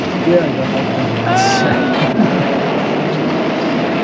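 A subway train rumbles and rattles steadily, with a squeal of wheels on rails midway, while a voice speaks over it in a 1970s movie trailer.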